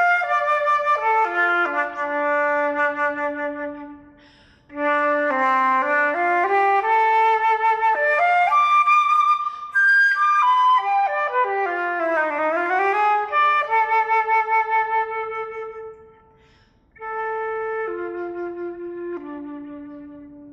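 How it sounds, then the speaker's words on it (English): A solo Altus 807 flute, silver-plated with a solid silver lip plate, plays a lyrical melody, clear sustained notes rising and falling with a few short pauses between phrases, close and bright. "The 807 is silver plated with a solid silver lip plate."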